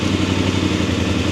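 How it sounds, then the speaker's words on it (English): A Voge 900 DSX motorcycle engine idles close by with a steady, rumbling putter and a faint mechanical clatter. "So guys, sorry for the engine noise."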